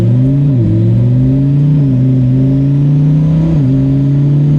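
A car engine revs loudly and steadily, its pitch rising and dipping a few times as the throttle is blipped, close and continuous.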